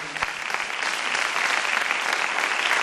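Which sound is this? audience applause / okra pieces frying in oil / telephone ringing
audience applause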